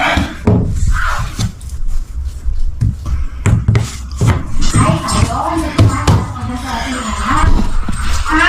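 Dogs whimper and yip in short bursts inside a house during basement stair work in Edmonton, Alberta, with shuffling and occasional knocks, while a person talks and scolds nearby throughout.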